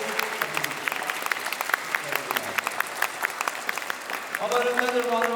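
An audience at Windward Mall applauds the Kahuku High School and Intermediate band, a bright patter of clapping with a voice talking over it and a brief musical tone entering near the end.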